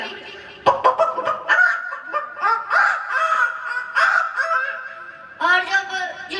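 A person imitates a hen clucking at a 25th wedding anniversary celebration, voicing a run of close, loud, choppy bird-like calls with brief pauses between bursts.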